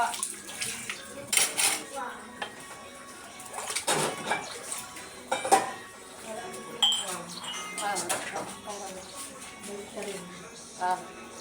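Dishes, pots and cutlery being washed in a basin of water, with irregular clinks, clatters and splashes close by, spread across the whole stretch, while a voice talks now and then in the background.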